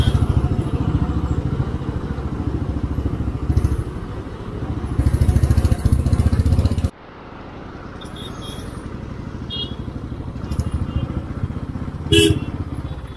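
Motorbike engines roar loudly through busy Hyderabad city traffic, then the din drops abruptly to a lower, more distant traffic hum with a brief burst of engine noise near the end.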